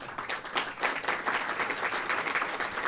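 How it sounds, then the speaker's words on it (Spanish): Applause from an audience at a Peruvian trade and legal presentation on country-brand protection, steady dense clapping filling the whole moment at moderate loudness, with no voices over it. "Un fuerte aplauso para ella, por favor."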